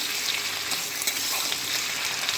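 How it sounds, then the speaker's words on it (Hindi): Chicken sizzles and fries in a pan with oil, a steady bright crackle and hiss that runs the whole time, with light stirring and scraping and no voices. "अब इसमें चिकन डाल देंगे। थोड़ी देर इसको भी तलेंगे।"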